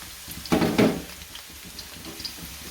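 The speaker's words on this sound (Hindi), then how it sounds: "कढ़ाई के अंदर मैंने तेल डाल लिया हुआ तकरीबन 4 से 5 चम्मच। और मैं 1 प्याज इसके अंदर डालूंगी।" An onion drops into four to five spoonfuls of hot oil in a kadai, giving a brief loud crackle that settles into a softer, patchy frying sound.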